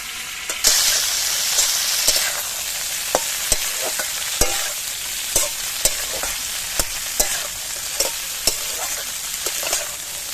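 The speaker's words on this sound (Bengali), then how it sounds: "দিয়ে দিচ্ছি কিছু পাঁচ ফোড়ন, লাল লাল হয়ে যাওয়ার পর এবার এর মধ্যে চুকোইগুলো দিয়ে দিচ্ছি।" Five-spice seeds and chukoi fruit fry in a hot pan with a steady bright sizzle, punctuated by regular sharp clicks and scrapes of a spatula stirring, close and without talk.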